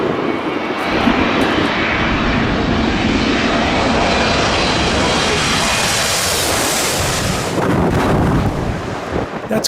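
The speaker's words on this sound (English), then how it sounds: "Look how low that A321neo is." An Airbus A321neo airliner passes low overhead on approach, its loud engine roar building into a broad, continuous rush that swells and fades over several seconds with no voices.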